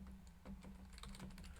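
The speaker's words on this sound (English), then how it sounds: "let me go ahead and use this keyboard" Typing on a computer keyboard during a data-structures lecture, a short run of light, quick key clicks over a steady low hum, with no voices.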